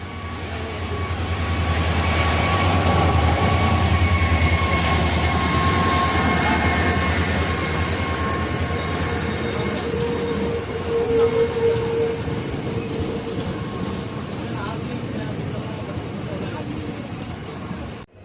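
A passenger train on the Madurai–Rameswaram route rumbles along steadily with a continuous low roar and faint metallic squeals, heard from inside or close by, with some talk in the background.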